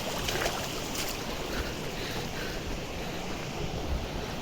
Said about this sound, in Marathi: इकडलं वरचं वॉटरफॉलचं पाणी बघा.